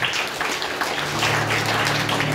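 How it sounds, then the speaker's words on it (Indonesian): A church congregation at a GBI service in Cilegon breaks into loud, dense applause that fills the hall, a sustained wash of many hands clapping with little talk. "Berikan tepuk tangan yang meriah buat Tuhan."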